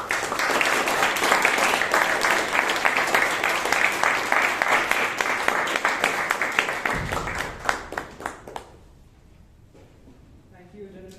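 Applause from a Toastmasters club meeting audience in Bangalore, dense steady clapping from many hands that thins into scattered claps and fades out near the end.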